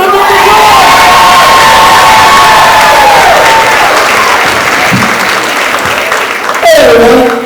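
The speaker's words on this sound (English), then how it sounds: "Big round of applause for George Spears." A packed comedy club crowd at Improv Atlanta bursts into loud, sustained applause and whooping cheers for comedian George Spears, a dense, close roar that holds steady for the whole stretch.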